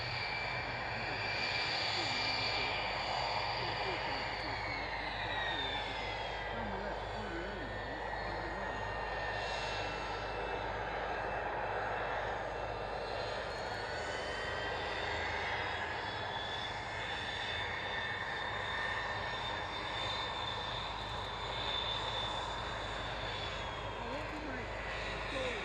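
Steady aircraft engine drone from an Estonian Air Force plane lining up on runway 27 at an air tattoo, continuous and loud with shifting whining tones, heard under radio chatter.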